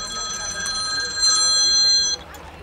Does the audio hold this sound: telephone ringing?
yes